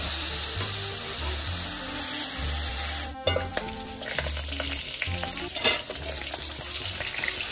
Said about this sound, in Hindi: अब हम पोर्क को धुलाने के बाद गरम तावे पे उसको ढालेंगे विदाउट एनी